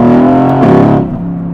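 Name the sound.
Mercedes-AMG GT S Edition 1 turbo engine sound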